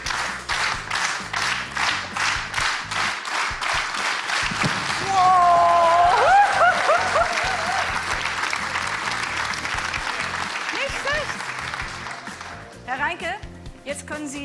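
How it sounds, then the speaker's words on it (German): Studio audience on a German talk show applauds after a hit, starting with steady rhythmic clapping that swells into dense, full applause, with voices talking over it toward the end. "Wir kriegen jedes Mal einen Applaus, wenn Sie treffen."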